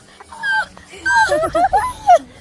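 A dog whimpers and yips in a string of short, high, close cries, then gives a sharper bark-like yelp, with people talking around it.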